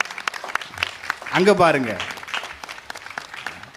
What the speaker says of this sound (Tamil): கைதட்டுங்க எல்லாருக்கும்.